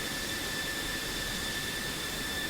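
An aircraft engine idles at around 60 psi with RPM just under 30, giving a steady, continuous roar with a high whine running through it, constant and close without any talk.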